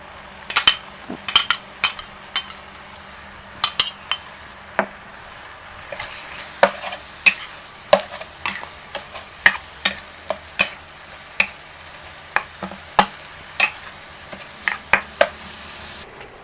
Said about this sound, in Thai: พอหมูเริ่มสุกนะคะ ก็จะ นำผักทุกอย่างลงไปผัดรวมกันเลยนะคะ